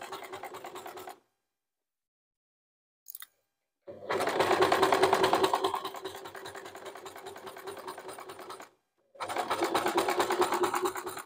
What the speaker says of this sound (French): vu que je couds une matière assez épaisse